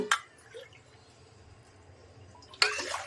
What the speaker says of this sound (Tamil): அதே கப்பில் 3 கப்பு தண்ணி ஊற்றிக்கோங்க